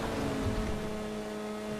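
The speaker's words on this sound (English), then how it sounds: "hopefully again you guys can hear the audio, the sound of this thing. The exhaust sounds pretty good as well." A car's exhaust drones and revs steadily in the GTA 5 Online video game, a dense sustained engine tone with no talk over it.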